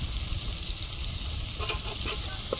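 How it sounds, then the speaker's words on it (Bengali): Spice masala of ground fennel, cumin, dried chilli, ginger and tomato fries in a pan for a koi fish curry, giving a steady close sizzle with a few faint scrapes of stirring near the end. "মশলা ভালোভাবে কষিয়ে নেব মশলা থেকে তেল ছড়া পর্যন্ত"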